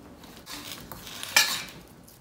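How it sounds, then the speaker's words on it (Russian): A salad being stirred with salt and olive oil, giving a soft utensil scrape followed by one sharper clink of cutlery against the bowl, close and fairly quiet, with no voices. "Все это перемешиваем."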